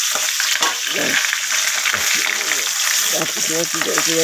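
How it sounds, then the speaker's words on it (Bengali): Fish fries in oil in a covered wok, a loud, dense, steady sizzle heard up close, while a person talks over it throughout. "এবার ঢাকা দিয়ে মাছটা 1 পিঠ ভাজা হবে"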